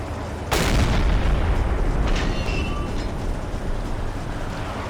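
An enemy ship's deck gun firing at a U-boat in the Silent Hunter 3 video game: one loud, sudden boom that rolls into a sustained rumbling echo.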